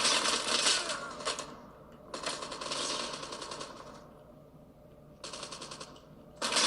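Bursts of rapid automatic gunfire from a shooter video game played on an ASUS ROG Kunai gamepad, three or four dense volleys separated by short pauses, loud and close with no talk over them.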